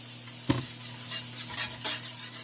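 Shallots sizzle in butter in a hot frying pan used for turkey, a steady close hiss with a few sharp scraping stirs, no talking.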